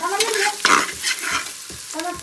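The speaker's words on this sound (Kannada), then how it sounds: "ಚಿಕನ್ ಚಿಕನ್ ಫ್ರೈ ಮಾಡ್ತೀಯಾ" Lemon chicken sizzles loudly in a hot pan while being stirred, with repeated close scraping strokes over constant frying crackle.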